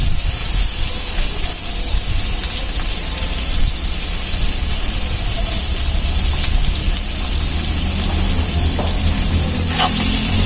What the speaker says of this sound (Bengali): আলু পেঁয়াজগুলোকে সুন্দর করে লাল লাল করে ভেজে নিব